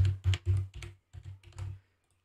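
Typing on a computer keyboard while setting up a Canva project: a quick run of close, crisp key clicks in two short bursts with a brief pause between, then silence.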